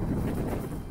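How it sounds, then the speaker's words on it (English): Wind gusts of about 10 to 15 mph buffet a DJI Osmo Pocket camera microphone fitted with a windscreen, giving a loud, close, continuous low rumble for about a second. "That was a pretty good gust of wind."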